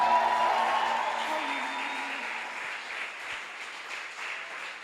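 A church congregation claps together in sustained applause, tapering slightly, with a lingering tone and some voices fading underneath at the start.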